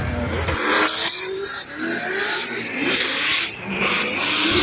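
Loud drift car engines rev and scream as they rise and fall in pitch, with tire squeal mixed in, continuous and close, at a pro drifting event in New Jersey.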